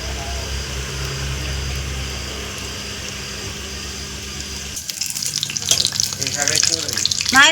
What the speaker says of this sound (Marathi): आता तेल पण गरम झालेलं आहे आणि त्यामध्ये असं चमच्याने भजी सोडून घ्यायचे.